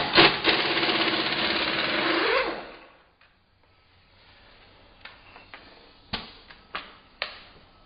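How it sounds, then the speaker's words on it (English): An impact wrench with a 30mm 12-point socket spins off the axle nut of a Volkswagen Mk4 Jetta during wheel bearing work. A loud continuous rattling burst lasts about two seconds, then fades into a few scattered metallic clinks. "there's a 30mm 12-point socket and we're going to spin that off at the impact"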